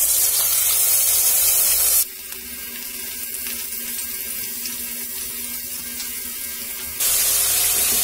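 Pointed gourds coated in salt and turmeric fry in an iron wok over low gas, making a loud, close hissing sizzle that drops noticeably quieter for a few seconds midway before surging back.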